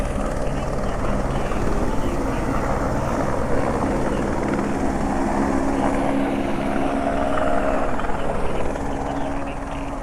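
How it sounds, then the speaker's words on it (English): Helicopters landing close by, a steady loud rotor and engine drone with a broad low rumble that holds for about ten seconds, with voices faintly mixed in underneath. "frickin' helicopters are landing."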